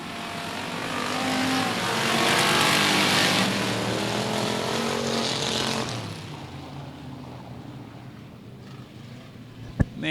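Race cars roar past at Cotton Bowl Speedway, engines swelling loud as the pack goes by and then fading into the distance, ending with a sharp bang.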